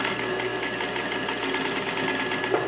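A JUKI DDL-5550 industrial sewing machine on a clutch motor runs steadily, a dense, even mechanical whir with rapid needle clatter and a constant motor hum throughout, close and alone with no talking.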